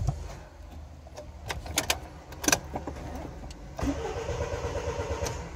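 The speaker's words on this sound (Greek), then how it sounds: "Βλέπουμε ότι μιζάρουμε και δεν παίρνει μπρος" A Toyota Avensis with its engine disabled by a remote alarm and tracking system cranks repeatedly without catching; a key rattles first, then the starter grinds on in a steady, close whirring run.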